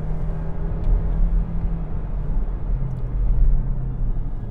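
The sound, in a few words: mild-hybrid SUV engine accelerating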